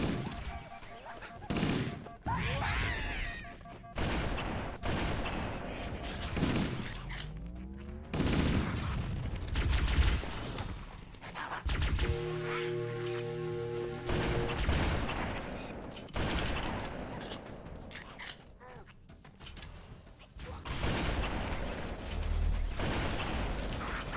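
Covenant stationary guns fire in Halo: Combat Evolved. Repeated bursts of rapid, crackling shots come and go over about twenty seconds, with explosions, tonal game sounds and a brief radio-like voice in between.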